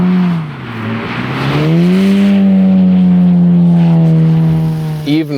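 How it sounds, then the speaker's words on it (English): Loud, close engine drone of a VW Golf R Mk 7.5 rising and holding at high revs as it slides sideways on ice and snow, with a brief dip and rev change at the end. "Applying some more throttle, and we're going sideways all the time."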